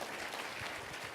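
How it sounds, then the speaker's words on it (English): Attendees at a conference breakout session applaud, a short burst of steady crowd clapping heard from across the room. "Let's give yourselves a round of applause."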